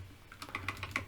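Typing on a computer keyboard: a short run of crisp, separate key clicks, roughly five or six taps in quick succession, close and clear against a low steady room hum, with no voices.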